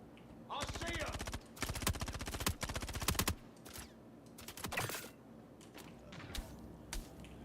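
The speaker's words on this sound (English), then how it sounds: "Is he shooting through the fucking crate?" Rapid automatic gunfire in the Star Citizen video game comes in several bursts, loud and near, followed by scattered single shots and clicks, with someone talking in between.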